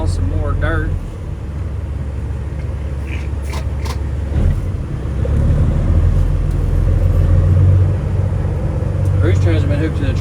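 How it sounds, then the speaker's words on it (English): Dump truck engine idling with a steady low rumble, swelling slightly midway, near and continuous, with a person talking over it at times. "I need to get the dump truck fired up and haul some more dirt."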